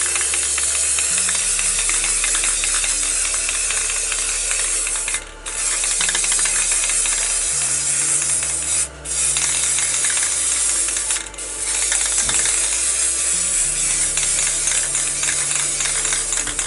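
Clear coat sprays from an aerosol can over a spray-paint landscape artwork: a steady, close hiss runs almost continuously, broken by three brief pauses between bursts.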